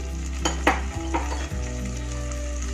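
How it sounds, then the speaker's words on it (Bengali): Ginger garlic paste spits and fries in melted butter over a low flame for a prawn kofta curry, a close, steady sizzle with a few brief clinks and stirs, no voices. "এবার অ্যাড করব আদা রসুনের পেস্ট"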